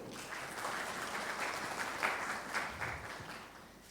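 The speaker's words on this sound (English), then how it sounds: "So a big round of applause for all of you." An audience of learners at an IIT Bombay session gives a steady round of applause, moderately loud and continuous with no talk over it.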